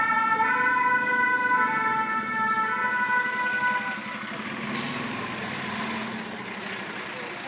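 A fire engine's siren wails loudly in a crowded street in Brussels, its tone sweeping steadily before dropping off as the truck arrives, with a brief high squeal and heavy engine rumble underneath.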